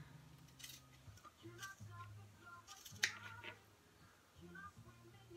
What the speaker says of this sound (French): Et là, je vais couper mon carré.